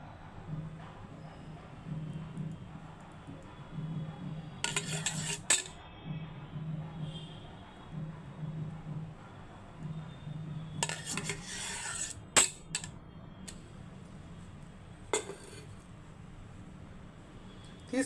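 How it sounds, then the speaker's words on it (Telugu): Semolina stirred and roasted in ghee in a pan for a sweet offering, with repeated scraping and rubbing of a spoon against the pan, occasional sharp metallic clinks, and a low background hum. "రవ్వ వేయించుకుంటున్నాను"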